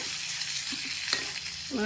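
Spices for tempering sizzle in hot oil for a raw mango dal, a continuous close, fairly soft hiss with a faint clink of a utensil near the end.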